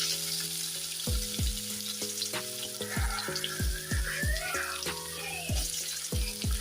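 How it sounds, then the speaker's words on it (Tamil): Onions sizzling in hot oil with cinnamon, cloves and cardamom while cooking a chapati side dish, a steady frying crackle with repeated low knocks of a spoon or ladle against the pan, close and alone. "இப்போ அதில் பட்டை, கிராம்பு, ஏலக்காய் எல்லாம் இப்போ போட்டு பொரிஞ்சவுடனே நம்ம வந்து வெட்டி வச்சு வெங்காயத்தை அதில் சேர்த்துக்கலாம்."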